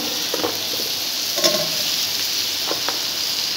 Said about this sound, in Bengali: এবার সবজি দিয়ে দিচ্ছি, কুমড়ো,